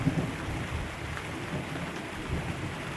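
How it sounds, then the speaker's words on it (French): Rain falling steadily during a moderate thunderstorm over Montpellier in July, with a low rumble of thunder rolling beneath the constant hiss of the downpour. "le coup de tonnerre"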